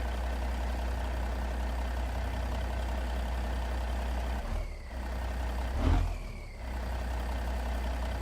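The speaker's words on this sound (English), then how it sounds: "I enjoyed the sound of the engine so much from yesterday." A stretched custom Kenworth KW900 truck in American Truck Simulator idling with a deep, steady low rumble, briefly dipping and swelling as if revved once mid-way before settling back.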